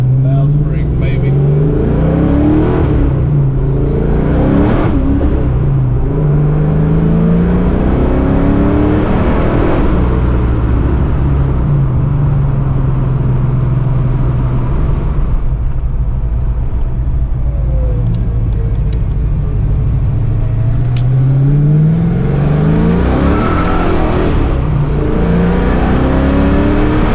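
A 1987 Saleen Mustang with a swapped-in 347 engine, suspected of weak valve springs, revs steadily and loudly up close, its pitch rising and falling through repeated throttle blips, with speech faintly mixed in.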